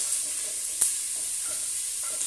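Garlic and onion sizzle steadily in hot oil while being stirred, a continuous close frying hiss with a brief utensil scrape near the start and no voices.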